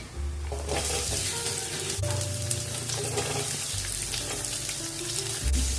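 Chana and moong dal fry in a pan with onions for an Indian dal, giving a steady close sizzle with occasional stirring scrapes and no talk.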